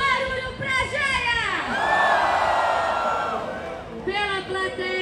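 Rap battle audience at Rap In Cena, Planeta Atlântida, roaring and whooping for a rapper, sustained loud cheers and shouted voices that swell in the middle and then ease.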